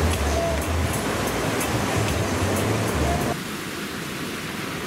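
Waves wash onto the beach at Unawatuna, Sri Lanka, in a broad, steady roar of surf. Low rumbles swell now and then, and the sound drops slightly softer near the end.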